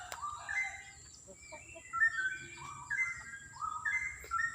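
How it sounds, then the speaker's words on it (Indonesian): Melodious straw-headed bulbul song in bright, bubbling whistled phrases, repeated several times at moderate distance over a quiet outdoor background. "itu ada suara burung tetangga cicak rewok"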